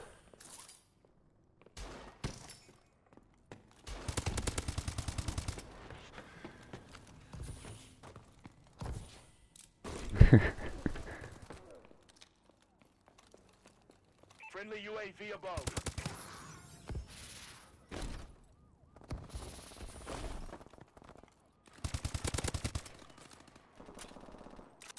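Hip-fired automatic weapons in a Call of Duty: Advanced Warfare team deathmatch, loud rapid bursts of gunfire broken by pauses, with occasional footsteps and mechanical clanks in between.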